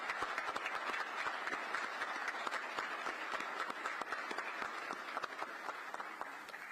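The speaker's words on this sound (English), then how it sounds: "let's give a big round of applause for those that did receive awards this evening" Sustained applause rises from the audience at a Charlotte Fire Department awards ceremony, a dense, even wash of many hands clapping, fairly distant and soft.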